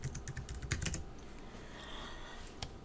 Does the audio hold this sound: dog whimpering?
no